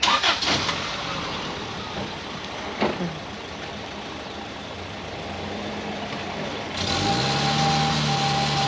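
A Chevrolet Colorado ZR2 pickup truck engine rumbles at idle, then revs up louder near the end with a steady mid-pitched drone; a few clunks early on.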